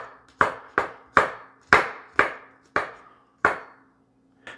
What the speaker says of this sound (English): So let me start by doing some mincing here.